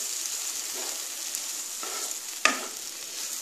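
Oats stirred into frying vegetables in a pan, a soft steady sizzle with a few brief scraping stirs and one sharper knock, close and without talk.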